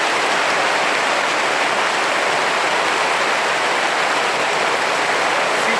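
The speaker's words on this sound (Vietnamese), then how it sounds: "bên đây nó đang mưa nhá đây này" Heavy rain pours down steadily as a loud, dense and unbroken hiss, with no voices.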